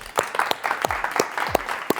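Applause for a contestant named Youssef at a live challenge game show, a short burst of clapping with scattered voices over it.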